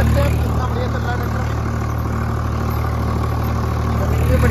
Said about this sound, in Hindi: ट्रैक्टर, जमीन भी बढ़िया जुत रही है